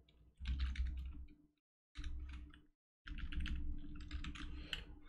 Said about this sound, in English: I'm just typing that in so I can F12